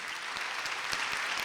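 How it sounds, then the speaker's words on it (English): Audience applause at a 2016 university convocation ceremony at Delaware State University, a steady dense wash of clapping from a large crowd that holds at an even level for the whole stretch, with no voices over it. "Let's give Jasmine another round of applause"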